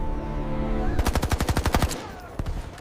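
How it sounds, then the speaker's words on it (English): Automatic gunfire from a war in Afghanistan's valleys: a fast burst of about a dozen loud, evenly spaced shots, followed by a couple of scattered single shots. "For 10 years, the valleys echoed with the sound of automatic fire."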